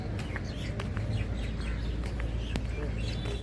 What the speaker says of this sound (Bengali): টিয়া পাখিতে ডাকছে। অবশ্য শুনতে পাচ্ছেন আপনারা